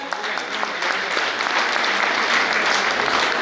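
Enthusiastic audience applause at a community lucky draw event, dense continuous clapping from a crowd that swells and holds steady, loud and close, with a voice or two faintly underneath.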